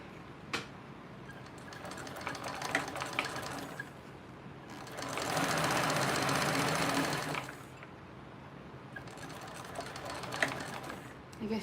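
A sewing machine top stitching a seam at 1/8 inch on a TrailBlazer, with intermittent stitching and a louder continuous run in the middle, heard close up.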